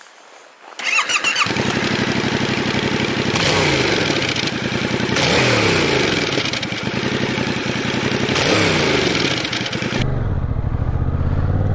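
A 2021 Yamaha Tracer 7 in A2-restricted form starts up and revs hard, its engine roaring loud and close with repeated rising and falling blips before dropping back to a settled idle.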